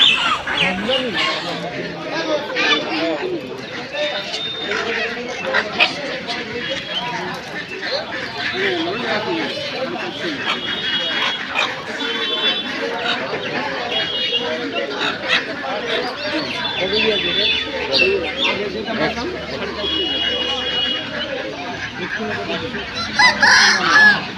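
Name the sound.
chickens at poultry market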